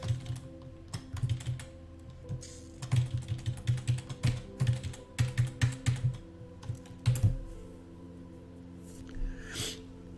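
Someone types on a computer keyboard with a sticking shift key, giving quick close bursts of clicky keystrokes in irregular runs broken by short pauses, with no talking.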